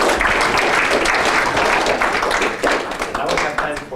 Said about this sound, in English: I think we owe a round of applause for Jevgeni.